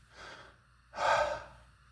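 A person breathing slowly to steady a shaking hand, one soft exhale followed by a stronger, louder breath, close and quiet with no talking.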